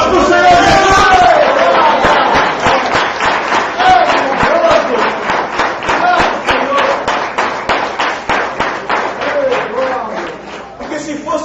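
A church congregation claps together during a worship service, starting as a dense burst and settling into a steady rhythmic beat in time, with voices calling out over it.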